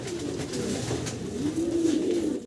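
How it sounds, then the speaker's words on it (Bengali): A pair of Lahore pigeons coo at a pigeon farm. The soft, low, throaty cooing is close by and rolls on continuously, with no talking over it. "আরও একটা চমৎকার লাহোরের জোড়া দেখালাম আপনাদের"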